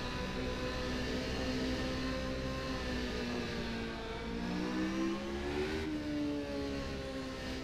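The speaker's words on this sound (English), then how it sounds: "this is the McLaren MP4 8, which raced in the 1993 Formula One season" Interior engine sound of a 1993 McLaren MP4/8 Formula One car in rFactor 2, a steady high-pitched V engine whine with harmonics rising through the revs, a brief dip as it shifts, then climbing again.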